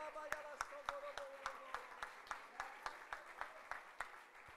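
A church congregation claps in a steady, even rhythm during worship, sharp regular claps sounding faint and somewhat distant, with soft tonal sound beneath.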